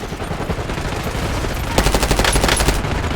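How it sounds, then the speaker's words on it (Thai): Gunfire between players in Call of Duty Warzone: dense automatic bursts and single shots, intensifying sharply partway through into a loud close volley, with no voices. "ปล่อยเขายิงกันไป ปล่อยเขายิงกันไป"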